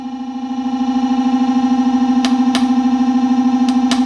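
A magnet held against a spinning roller gives a loud, steady buzzing hum with a rapid pulsing beat, joined by a few sharp clicks near the end.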